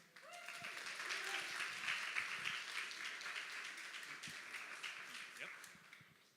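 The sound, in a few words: audience applause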